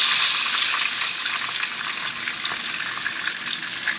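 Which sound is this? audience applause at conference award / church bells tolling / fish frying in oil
fish frying in oil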